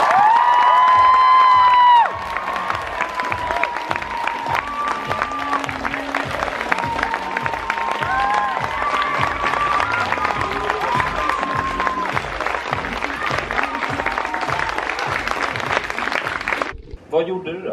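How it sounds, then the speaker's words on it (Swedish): Television talk show studio audience bursting into loud applause and cheering with whoops, sustained clapping over several seconds while a voice speaks over the crowd before it cuts off near the end. "Ge honom en applåd!"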